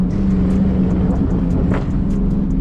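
A steady engine rumble from a stock Dodge Challenger 392 Scat Pack with scattered sharp pops and crackles from the exhaust, irregular and close, spread through the whole stretch.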